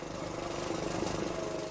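Machinery drones continuously inside a textile workshop in Gaza, a steady, slightly pulsing mechanical hum at moderate level with no voices.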